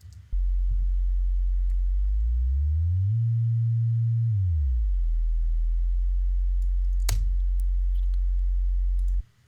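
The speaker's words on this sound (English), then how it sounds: "Well, it literally is this tone generator is generating a sine wave at" A steady 45 Hz sine tone from a tone generator hums continuously and loud for about nine seconds, gliding briefly upward in pitch and back down midway, with a faint click near the end and no talk.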